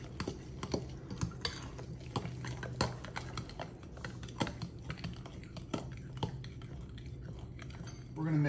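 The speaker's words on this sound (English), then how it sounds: "And we're going to stir that together." Mashed bananas and melted butter are stirred together in a bowl for cream cheese stuffed banana bread. A spoon clicks and scrapes in an irregular rhythm close by while a person talks over it.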